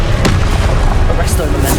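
A Confringo explosion spell going off in Hogwarts Legacy, a loud, close, dense booming blast that fills the whole short moment, with a voice and game effects layered on top.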